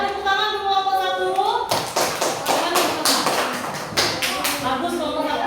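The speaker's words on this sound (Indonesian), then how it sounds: "tepuk tangan untuk kelompok 1." Clapping from an Indonesian elementary school class applauding group 1, breaking out after a brief stretch of voices and continuing as quick, uneven claps from several hands close by.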